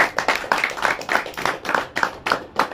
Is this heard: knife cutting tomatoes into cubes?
no